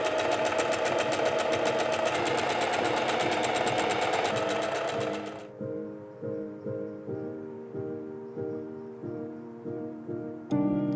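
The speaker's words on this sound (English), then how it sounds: "Okay, sewing." A sewing machine stitching a wedding dress runs fast and loud at close range for about five seconds, then slows to a string of distinct, evenly spaced thumping stitches before a brief burst at the very end.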